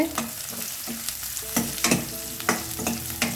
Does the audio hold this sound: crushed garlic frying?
yes